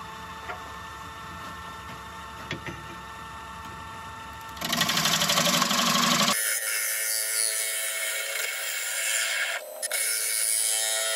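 A wooden bowl spins on a lathe as a turning tool thins its walls, giving a steady close mechanical whir and hiss that jumps louder and brighter midway, with no voices.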